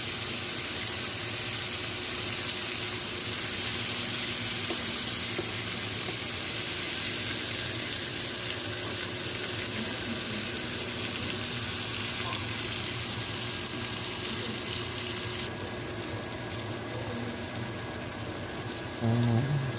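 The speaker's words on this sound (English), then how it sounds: "Got some good caramelization on those onions." Onions and shrimp sizzle in a pan for late-night shrimp and grits, giving a dense, continuous hissing fry that stays loud and even throughout, with a brief clunk near the end.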